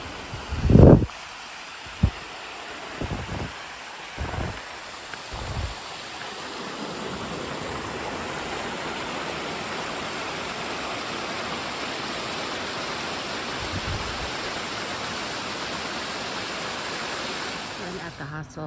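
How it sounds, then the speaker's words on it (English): A steady, rushing wash of falling water from a waterfall in the Smoky Mountains fills the background, constant and moderately loud, after a few bumps and handling noises at the start. "I get to end with a beautiful waterfall."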